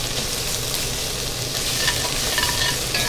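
Tomato paste and garlic sizzle and fry in a hot pot, a steady, close crackle with faint scraping stirs and no talk.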